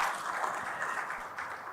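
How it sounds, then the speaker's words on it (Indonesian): Audience applause at a Christian church gathering or talk event, a steady, fairly quiet wash of clapping from a crowd that runs without a break and without voices. "boleh kasih tepuk tangan Bapak Ibu buat Pak Esra."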